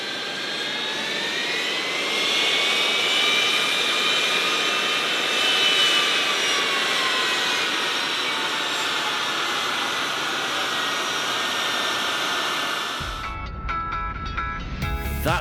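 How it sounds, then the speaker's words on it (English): Jet engines of a C-17 Globemaster transport aircraft returning from Afghanistan roar loudly and steadily with a rising, whining tone that drifts in pitch, before cutting abruptly to a brief burst of different noise at the end. "That was the sound of the first C-17 Globemaster to return from Afghanistan"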